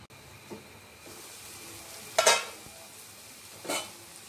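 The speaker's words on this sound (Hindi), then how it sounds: "अब इसे फिर से स्टर करना है इसे कवर करके जब तक पकाना है जब तक पोटैटोज गल ना जाए" A spoon stirs potato and fenugreek sabzi in a pan, with soft scraping and a faint sizzle, plus two louder clattering scrapes against the pan, heard close with no speech.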